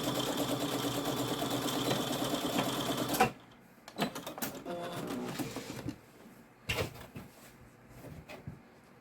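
A sewing machine stitches the seam of a quilted bag, running in a steady close whir for about three seconds, then stopping, followed by short bursts and handling clatter.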